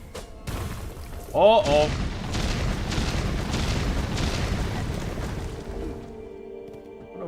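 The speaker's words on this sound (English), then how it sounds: "Another bomb." A bomb goes off in Hollow Knight: Silksong, a single deep boom with a short rumbling tail over steady game ambience, followed by a voice talking across the remaining seconds.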